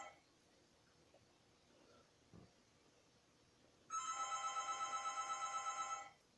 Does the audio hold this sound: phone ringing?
yes